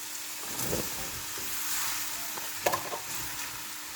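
Pumpkin (kalabasa) frying in a pan for pakbet, a close, continuous hiss of sizzling oil with a few louder crackles and stirring scrapes.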